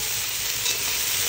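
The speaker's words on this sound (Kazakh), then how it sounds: "Біз менен кішкентай картошкамызды, сәбізімізді қуырып жатырмыз." Potatoes and carrots frying in a pan give a steady, close, dense sizzle that holds evenly without pause, with no voices over it.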